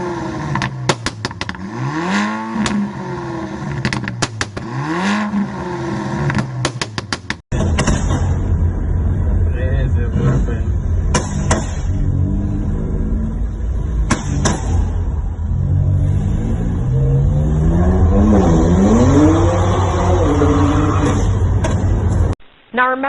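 Loud road vehicles with modified engines revving hard, with rising and falling engine whines close by, a roaring stretch of heavy revving and clatter, and some voices in the background.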